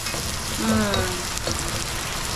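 Garlic and onion frying in a little oil, a steady close sizzle with a brief louder stir partway through, no voices over it.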